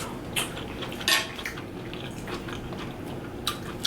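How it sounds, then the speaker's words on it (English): Cutlery scraping and clinking against a plate while someone eats BBQ fried Cornish hen with carrot rice, with short scrapes and taps spread through the clip and one louder scrape near the middle. "Sorry for the scraping noise."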